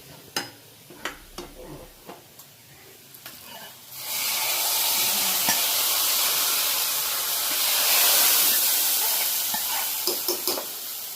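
Hot fried onion tempering is poured into a mango pulissery, bursting into a loud, steady sizzle and hiss after a few quiet clinks and taps, fading slightly toward the end with some light knocks.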